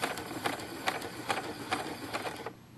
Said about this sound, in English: if you know your sewing machine pretty well, you'll start to know when you are in the right spot